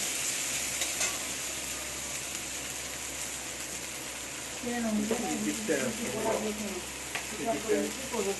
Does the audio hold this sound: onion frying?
yes